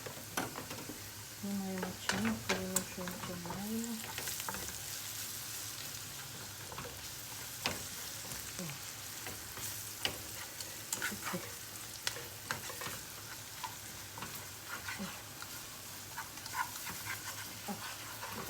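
Food frying in a pan and being stirred with an utensil, fish cooking nearby in a home kitchen; soft steady sizzle with repeated scraping clinks and a dog whimpering in the background, no voices.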